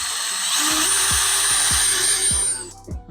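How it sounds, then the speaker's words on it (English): A power drill whines loudly and steadily as it bores through the side of a fuel tank. Rhythmic clicks and knocks sound under the whine, and it winds down abruptly near the end. "it's a drill through the side of it"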